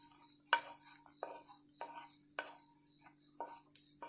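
A spoon scrapes and knocks against a pan while roasted cashews, raisins and almonds are mixed together, with about seven soft, separate strokes in a quiet kitchen.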